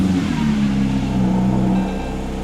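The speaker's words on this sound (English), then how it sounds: "You should be listening to that 4-litre flat 6, not the stereo in my view." Porsche 992.1 GT3 Touring's 4-litre flat-six engine running steadily and loud, a dense idle-to-rev drone with a slight dip in intensity toward the end, heard close with no talk.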